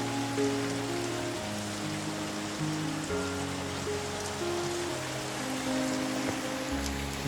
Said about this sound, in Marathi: सकाळपासून खूप पाऊस लागतोय